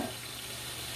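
Hamburgers sizzle in a cast iron skillet, giving a steady, close frying hiss for about a second with no talking.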